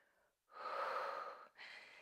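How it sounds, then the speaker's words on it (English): Deep breathing during a standing Pilates leg exercise, a slow, close inhale or exhale followed by a second breath, soft and airy with no talk. "Deep breathing."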